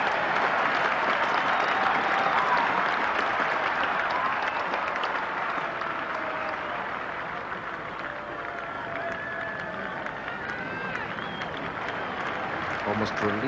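Cricket spectators at an England versus West Indies Test match in 1988 applaud England reaching 50 runs, a broad, distant wash of clapping from the crowd that fills the ground, running steadily under a commentator's voice.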